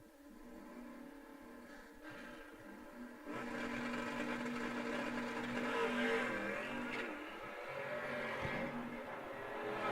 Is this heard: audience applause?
no